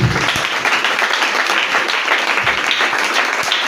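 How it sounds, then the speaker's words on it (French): A church congregation applauds at a celebration service, with dense, sustained clapping and cheering from a crowd filling the space throughout. "Est-ce que tu peux acclamer très fort Jésus?"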